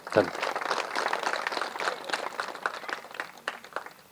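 An audience claps at a pyramid opening event in Janagam, India. Many hands make a dense, lively patter of applause that stays fairly steady and close for several seconds.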